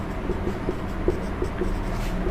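Writing on a board in a classroom lesson, with a steady, close scratching and faint tapping strokes running continuously for a couple of seconds, with no talking.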